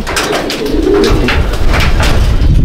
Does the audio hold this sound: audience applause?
no